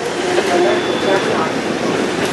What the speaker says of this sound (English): So this is called Rock Monument here on the Kuranda Scenic Railway.